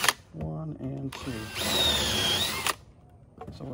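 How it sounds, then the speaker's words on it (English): A power drill bores holes all the way through the handle of a broken post-hole digger, a loud sustained whine after a few short bursts, with a voice speaking before and after. "So let's drill these all the way through."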